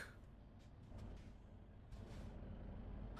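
Rumbling truck engine with a hiss of air brakes from the video game Euro Truck Simulator 2, steady and fairly close, with no talking.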